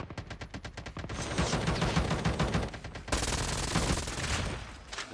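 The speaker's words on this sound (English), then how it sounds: "Getting shot at." Rapid automatic gunfire rattles in Call of Duty Mobile, a fast string of close, loud shots running nearly continuously for about five seconds, with a sharp burst partway through.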